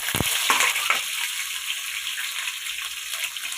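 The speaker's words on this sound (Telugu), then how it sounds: "కరివేపాకు తడిసి ఉండేకి పటపటా పైకి వచ్చేసింది." Onions and damp curry leaves fry in oil in a wide kadai for chicken fry, sending out a bright, steady sizzle with a few sharp crackles and pops at the start, then an even hiss, without talk.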